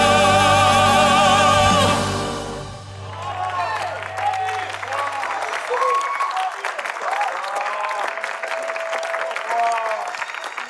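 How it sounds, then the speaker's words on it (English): An audience applauds at the close of a live orchestral vocal performance, dense clapping with some cheering swelling in as the big final chord fades, loud and sustained to the end. "I don't know why the clapping is so..."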